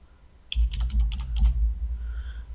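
A short burst of about eight quick keystrokes on a computer keyboard, close and crisp, over a low background hum.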